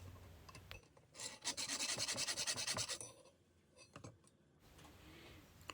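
A coarse hand file rasps against a piece of scrap brass in quick, steady strokes, loud and rhythmic for about two seconds, then fading into fainter, scattered scrapes.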